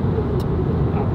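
A steady, loud roar of wind from roof racks and road rumble fills the cabin of a moving car, continuous and droning with no letup.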